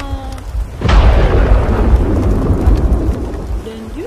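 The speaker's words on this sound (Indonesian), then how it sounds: "Teman-teman, coba lihat, hujannya sangat deras." Heavy rain pours in a steady dense roar, opening with a loud thunder-like rumble and continuing as a close, unbroken wash of falling water.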